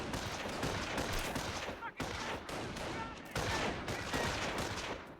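Sustained rifle and machine-gun fire crackles through a Company of Heroes battle on the Normandy invasion, dense rapid bursts broken by two brief gaps, with a voice murmuring faintly underneath.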